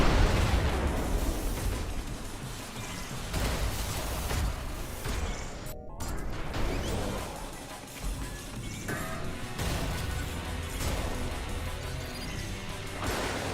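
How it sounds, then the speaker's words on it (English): Loud, chaotic explosions and crashing impacts in the fast-paced shooter ULTRAKILL, a sustained barrage of booms and bursts with one brief cutout midway, no speech. "Explosion, explosion, please explode, please explode."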